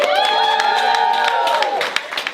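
A comedy club audience cheers loudly, with a sustained shouted whoop from the crowd over scattered claps that fades after a couple of seconds.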